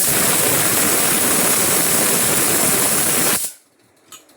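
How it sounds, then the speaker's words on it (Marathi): A pressure cooker in a home kitchen vents steam in a loud, steady rushing hiss for about three and a half seconds, then cuts off abruptly into near quiet. "आज तुम्हाला सगळ्या कुकरच्या शिट्यांचाच आवाज येतोय"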